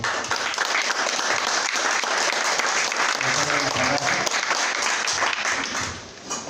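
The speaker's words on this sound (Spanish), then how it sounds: "Un fuerte aplauso, de favor." Steady, loud applause from an audience at a Morena party council gathering in Mexico City, continuous clapping with a few voices underneath, fading near the end.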